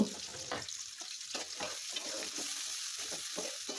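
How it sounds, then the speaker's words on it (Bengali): Chopped onions frying in about a third cup of hot oil in a kadai, a faint continuous sizzle with soft irregular crackles. "তেল গরম হলে পেঁয়াজ কুচিগুলো দিয়ে দিব"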